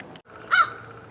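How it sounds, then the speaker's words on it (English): A crow in a backyard gives a single loud, harsh caw, close by after a brief lower sound, with quiet ambience and no talking. "this crow would like me to leave the backyard"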